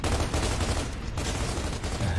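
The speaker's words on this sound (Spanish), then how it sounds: "¡Disparos!" Rapid sustained gunfire in the video game Gears of War 2, a dense, loud continuous rattle of shots and automatic weapons filling the whole stretch with no pause.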